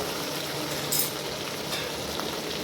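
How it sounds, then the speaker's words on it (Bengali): Chicken masala sizzles and spits in a hot pan after about twenty minutes of frying, with a brief louder hiss near the start as a little water hits the spices, then a steady crackle, no voices. "মশলাটা আমি প্রায় কষিয়ে নিয়েছি কুড়ি মিনিট মতো হয়ে গেল আর এর মধ্যে আমি একটু জল অ্যাড করবো"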